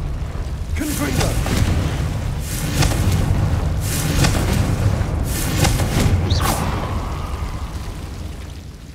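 The Confringo blasting spell in Hogwarts Legacy sets off a series of booming bursts over a dense rumble of game battle noise, with a few separate blasts rising through the din.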